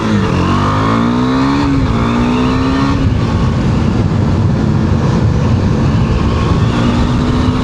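A Husqvarna Svartpilen 401 motorcycle engine revs and accelerates loudly up close, pitch climbing then settling into a steady, rough drone.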